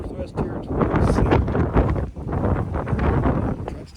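Strong wind buffets the microphone in gusts during sleet and freezing fog while driving a truck on the Dempster Highway into the Northwest Territories, with someone talking throughout.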